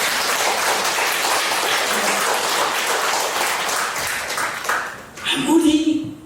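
Church congregation applauding during a sermon, a sustained broad wash of clapping that fades out, followed by a voice speaking near the end.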